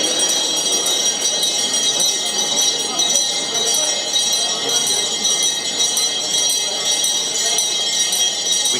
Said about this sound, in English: I think that bell signifies the start of the auction.